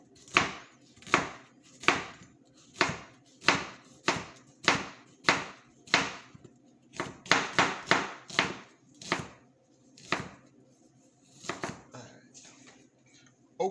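A sharp knife chops an onion on a board in a regular series of crisp, close thuds. The rhythm quickens into a fast burst midway, then slows to a few scattered cuts.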